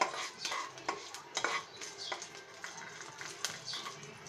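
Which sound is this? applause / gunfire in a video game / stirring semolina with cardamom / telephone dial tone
stirring semolina with cardamom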